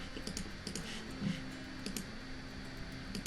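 Quick keystrokes on a computer keyboard while entering text in a design app, a light run of irregular clicks close up over a steady background hum.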